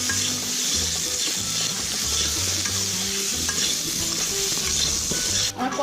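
Pointed gourd frying in oil with turmeric and salt, a strong continuous sizzle with scraping stirs in the pan, close and loud throughout.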